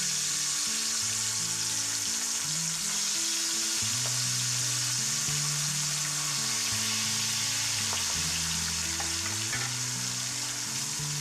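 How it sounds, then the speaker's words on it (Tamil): Marinated pomfret fish frying in hot oil on medium flame, a loud, steady close sizzle and crackle with background music underneath, no talk. "ஆயில் நல்லா ஹீட் ஆன உடனே மசாலா போட்டு மேரினேட் பண்ணி வச்சுருக்க ஃபிஷ் ஆட் பண்ணிக்கோங்க"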